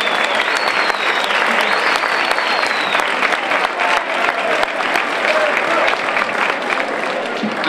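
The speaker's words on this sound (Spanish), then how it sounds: "Un fuerte aplauso y mucha suerte, Carmelo." A crowd applauds warmly at a fandango singing contest in Aroche, sustained dense clapping with a few whistles rising over it, continuous for several seconds.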